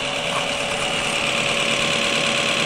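The electric motor of a BMW E39 EV conversion, with the gearbox empty of oil, runs at a constant steady speed with a loud, close, even whine and buzz that holds unchanged throughout.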